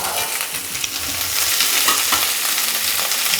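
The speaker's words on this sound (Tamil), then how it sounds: "நம்ம வெங்காயம் போடாததால ஸ்ட்ரெயிட்டாக பீன்ஸ் போட்டுறேன்" Green beans sautéing in a hot pan, a continuous loud sizzle with scraping stir strokes throughout, close and without talk.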